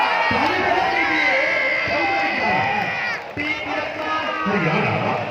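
A large crowd shouts and cheers continuously at an All India Volleyball Tournament match between Muzaffarnagar and D.L.W Varanasi, a loud, dense wall of overlapping voices with brief sharp peaks.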